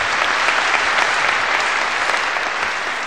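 Concert audience applauding a guitarist during a 1976 live show, a dense, steady wash of many hands clapping at full strength, close and continuous, with no voices on top.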